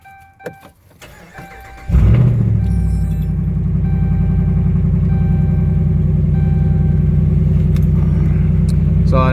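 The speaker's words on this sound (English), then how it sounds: "turn the truck on." A pickup truck engine cranks briefly and catches, then settles into a loud, steady idle close by, after a few faint clicks from the cab.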